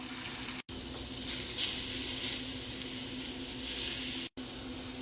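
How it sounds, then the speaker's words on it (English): Banana peel strips frying in a pan like bacon, giving off a steady, close hiss and crackle of sizzling oil with a faint tonal hum underneath, broken by two brief cuts. "It's sizzling like bacon"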